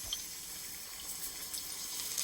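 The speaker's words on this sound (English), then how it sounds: "you're gonna add just a little bit of water in there." Water is added to a hot pan while cooking steak, giving a steady, bright hiss and sizzle throughout with no talk.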